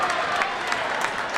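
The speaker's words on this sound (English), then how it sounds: "listen to the crowd" Basketball crowd at a boys' varsity school game, Lorain vs John Adams, cheering and clapping steadily after a free throw, a continuous wash of applause with a few louder swells.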